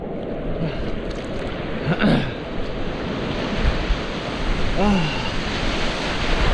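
Ocean surf rolls steadily in Bali, a continuous roar of waves and water with wind buffeting the microphone, while faint voices rise briefly in the background.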